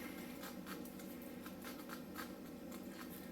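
A knife cuts into a whole pineapple to carve a circle about two inches deep, giving a steady scratchy, rasping scraping with repeated short strokes, close and continuous with no talking.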